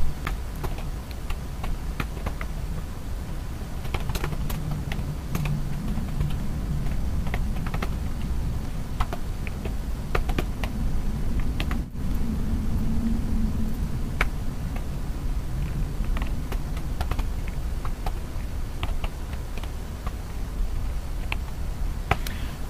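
Steady keyboard typing as C program code is entered on a computer keyboard: rapid, irregular clicks and key taps run continuously at close range over a low background hum, with no talking.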